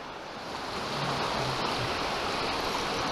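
Rapids on the Hellyer River in Tasmania roar as a dense, continuous rush of churning water. The sound is loud and close and stays steady throughout, with no voices.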